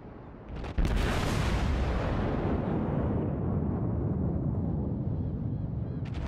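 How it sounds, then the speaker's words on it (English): A battleship's main guns fire a volley in World of Warships, a sudden heavy boom followed by a long, loud rumbling roar that slowly decays, with no talking. "Oh, that volley, it looked really good, but there was only one hit, but that hit was a citadel."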